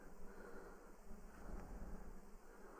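Honey bees droning steadily in a freshly opened hive as the winter wraps come off, a faint continuous buzz with some wind noise, no talking.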